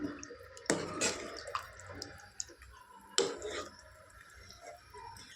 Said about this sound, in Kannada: ಅದೇ ಬೌಲ್ಗೆ ನೀರು ಹಾಕ್ಕೊಂಡು ನಮಗೆ ಗ್ರೇವಿ ಮಾಡ್ಕೊಳ್ಳೋದಕ್ಕೆ ಎಷ್ಟು ನೀರು ಬೇಕಲ್ಲ ಅಷ್ಟು ನೀರು ಹಾಕ್ಕೊಂಡು